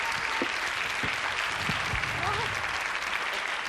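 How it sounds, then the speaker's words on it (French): A TV studio audience applauds, a dense continuous roar of clapping at even volume with a few voices faintly under it. "N'exagérons pas les applaudissements sur Patrice"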